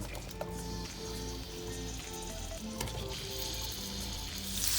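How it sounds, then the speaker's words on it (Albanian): Sliced peppers fry in three spoons of olive oil in a pan for fërgesë, a continuous close sizzle with occasional spatter pops and scraping over a steady kitchen hum. "Tani do të bëjmë hedhjen e specave për t'i skuqur."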